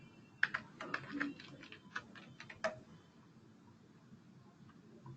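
Fingers tap a computer keyboard in short quiet bursts of clicks, with a few irregular keystrokes, then a quiet pause.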